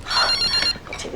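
A telephone rings in a home kitchen with a short, bright, trilling bell burst that stops partway, and a voice speaks briefly over and after it.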